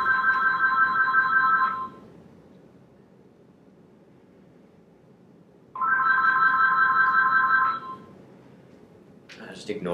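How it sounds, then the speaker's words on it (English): A home telephone rings in two loud electronic bursts, the first at the start and the second after a few seconds of quiet, over faint room noise. "who the hell's calling my house?"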